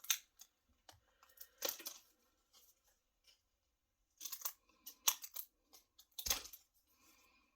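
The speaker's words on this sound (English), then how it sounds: "Now I'm going to take me another craft stick, again cut off the rounded edges." Cutters snip the rounded edges off a wooden craft stick, a series of sharp, close crisp cracks and clicks in two clusters separated by quiet, each cut short and distinct.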